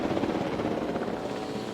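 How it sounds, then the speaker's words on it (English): A small helicopter in the video game Jurassic World Evolution 2 gives a steady, continuous rotor drone with a broad rumbling hum, held at an even loudness for the whole stretch and with no talk over it. "this little helicopter kind of makes it rentable"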